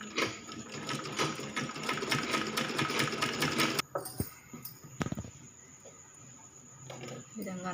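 A sewing machine runs steadily while stitching cloth for a frill baby frock, a dense mechanical whirr that stops abruptly partway, followed by quieter handling knocks and a brief restart.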